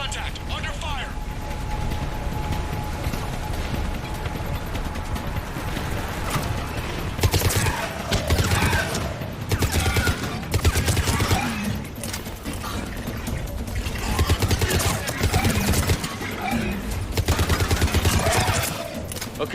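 Gunfire in a Mass Effect 3 combat scene, loud, dense bursts of shots that come in clustered waves after a quieter opening, with heavy impacts and mechanical clatter, and a voice speaking over parts of it.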